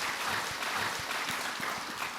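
An audience at a Buddhist monk's question-and-answer lecture, a Chuseok special, claps in a soft, steady patter with no talking.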